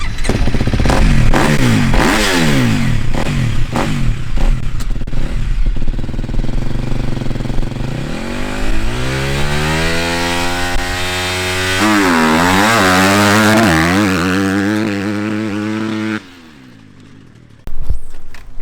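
A four-stroke dirt bike engine revs hard and loud up close on a dirt track, climbing and falling in pitch through repeated throttle blips and sustained high revs before briefly dropping to idle and surging again.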